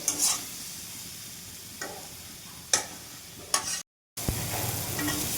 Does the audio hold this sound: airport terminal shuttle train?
no